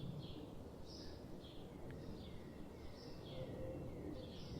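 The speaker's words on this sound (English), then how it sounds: "Maybe you're hearing birdsong." Faint outdoor birdsong of repeated short chirps and calls, rising and falling over a steady low background hiss.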